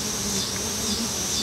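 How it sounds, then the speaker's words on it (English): Dense, steady buzzing of a mass of bees washboarding at the front of a hive, a continuous close drone that holds evenly with no voices. "These bees are washboarding, a behavior where they hang out on front of the hive and rhythmically rock back and forth"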